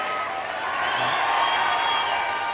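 A large audience at a Save Soil public event in Bengaluru claps in a dense, continuous wash of applause that holds steady and fairly loud throughout.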